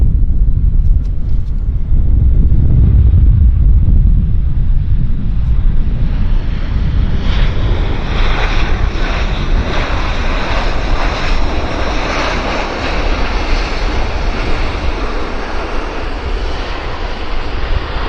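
An Airbus A320 at Vancouver airport, a loud jet roar that swells and broadens over time with a rushing, wind-like wash and no talk.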